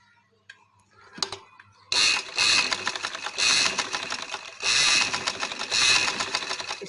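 A sewing machine runs in bursts while stitching elastic into the waistband of trousers, with a faint click first and then several loud, steady runs of stitching separated by short pauses.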